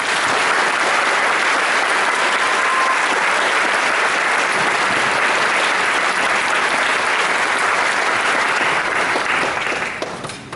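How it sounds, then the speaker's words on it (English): A crowd at a boot camp graduation ceremony applauds loudly and continuously for about ten seconds, a dense wash of clapping that tapers off at the very end. "please join us again in giving these fine awardees a round of applause"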